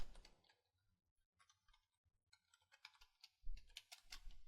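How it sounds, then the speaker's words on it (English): Computer keyboard keys clack in short irregular bursts as a chart title is typed in Excel 2013, quiet and close, with pauses between clusters of keystrokes. "start typing my chart title"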